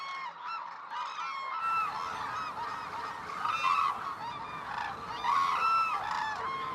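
White-naped and hooded cranes at their wintering ground in Izumi, Kagoshima, a large flock giving overlapping honking calls that swell into a dense, continuous chorus with louder bursts, no voices.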